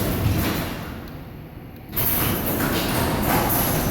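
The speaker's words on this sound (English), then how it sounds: "Garage door" Residential garage door opening, a loud continuous mechanical rumble and rattle that dips briefly and then returns stronger, steady and close.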